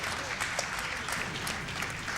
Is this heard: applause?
yes